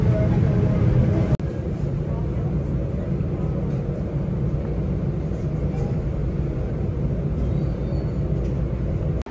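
A moving train in Korea rumbles steadily from inside the carriage, a continuous low roar with a brief jolt early on, while people talk faintly over it.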